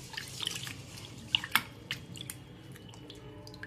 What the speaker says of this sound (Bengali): 2-3 বার এইভাবে ভালো করে ধুয়ে পরিষ্কার করে চালটাকে ভিজিয়ে দেব